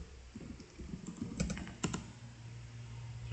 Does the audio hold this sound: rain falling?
no